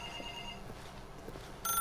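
A telephone rings in a dark room in The Stanley Parable video game, a short electronic ring that cuts in near the end after a quiet stretch of ambience.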